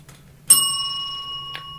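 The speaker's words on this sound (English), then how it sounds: "I always ring that bell when I get a confirmation from Spirit." A single small bell is struck once during a tarot card reading, giving a sharp, clear ding whose bright tone lingers and slowly fades. A faint tap follows near the end.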